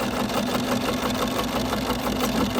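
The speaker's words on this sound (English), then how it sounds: "So I'm gonna sew this one together" Sewing machine stitching pieces of a quilt block into a triangle unit, a steady close whirring hum with a fast even rhythm running throughout without pause.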